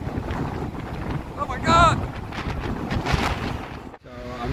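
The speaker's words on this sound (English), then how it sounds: "It's just very, very windy." Strong wind on an exposed mountain saddle buffets the microphone with loud, gusting roar and rumble throughout, with brief flutters and a short dropout near the end.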